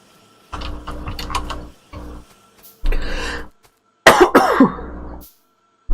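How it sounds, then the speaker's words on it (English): A person coughs in several separate bursts, some rapid clustered hacks and a longer harsh fit near the end, loud and close with silent gaps between. "Sorry about the coughing."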